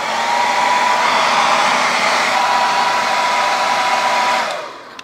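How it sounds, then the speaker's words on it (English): A handheld hairdryer blows steadily on acrylic paint coating a cast resin sculpture, a close, loud, even whir with a faint whine that runs about four seconds before switching off and winding down. "got to have your handy dandy trusty hairdryer by your side"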